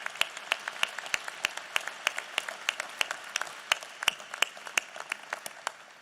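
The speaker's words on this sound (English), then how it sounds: "I think they all deserve a big round of applause" A modest audience at a National Space Council meeting in the Smithsonian's Udvar-Hazy Center applauds the user advisory group, giving distinct, fairly sparse claps in a steady patter, moderately quiet and with no talk over it.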